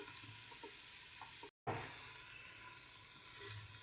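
Carrot and bengal gram halwa is stirred in a pan, a low, quiet sizzle with soft scraping strokes, broken by a brief silent gap partway through.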